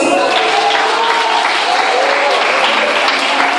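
Loud, dense applause fills a church service, steady throughout with voices mixed into the clapping.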